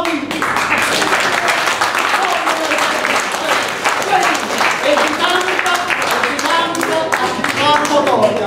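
Steady, dense audience applause filling the whole stretch at close range, with voices talking over the clapping.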